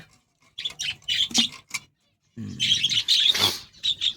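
A mother bird calls from a nest inside a clay pot, giving bursts of sharp, high chirps and squawks, close and loud, with a brief silent gap before a longer rapid run of calls.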